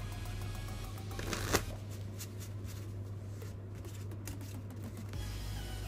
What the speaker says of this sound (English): I'm giving it a table shuffle.